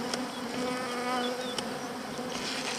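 Honeybees drone around an opened hive holding a queen cell, a steady close hum of many wings with a few individual bees passing louder near the microphone, no voices.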